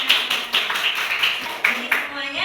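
Children in a Quran study class clap their hands together in a quick, uneven rhythm of close, sharp claps, with voices heard faintly underneath.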